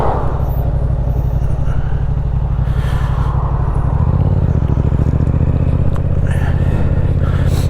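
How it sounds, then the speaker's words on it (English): A loud motorcycle engine rumbles steadily while riding, its exhaust note shifting and deepening partway through, with a voice talking over it and wind noise throughout. "People probably get all upset because my bike's too loud"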